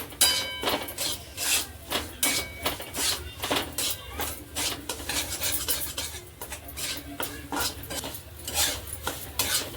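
Coarse semolina (rava) roasting in a pan as a utensil stirs it, with repeated rhythmic scraping and gritty rasping strokes close by and loud, no talking.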